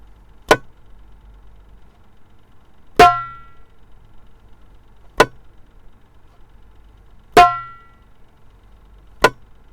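Muted ka strokes on a darbuka ring out as short, crisp dry taps, alternating with slightly fuller ringing strokes, evenly spaced about every two seconds in a quiet room with no talking.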